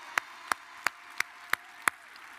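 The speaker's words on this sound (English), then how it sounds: "Clap for Allison." Six sharp, evenly spaced claps ring out at a steady beat in a large room at a national FFA convention session, sounding like only a few hands rather than full crowd applause.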